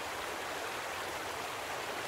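Steady broadband rush of flowing water where someone stands fishing in a stream, continuous and fairly close, with no talk over it.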